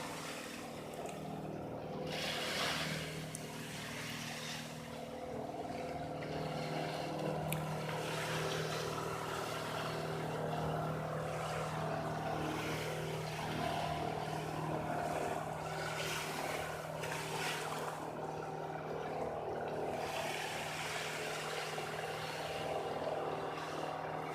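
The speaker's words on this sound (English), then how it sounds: "That kind of boat. The engines. It's too loud." A steady low engine drone hums continuously with water and wind noise around it, loud and unbroken throughout, like a boat motor running nearby.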